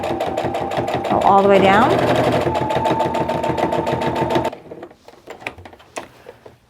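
Sewing machine stitching a fabric face mask with ties, a fast, loud mechanical whir and rapid needle clatter that runs continuously then stops, after which soft handling noises follow; a person speaks briefly over it.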